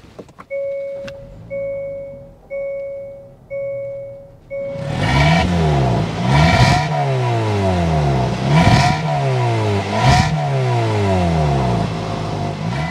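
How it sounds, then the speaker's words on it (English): Several chimes sound, then a 2024 Hyundai Tucson SEL engine cranks and fires up, revving a few times with a deep, throaty exhaust rumble that settles into a steady idle. "Let's go inside, start up, so you can hear that exhaust note."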